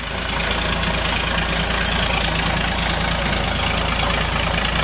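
A 1928 Lombard dump truck engine running steadily right after starting, with a dense, even mechanical drone and a low knocking pulse, loud and close with no voices.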